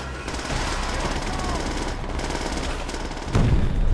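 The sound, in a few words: enemy machine gun fire in video game Call of Duty: World at War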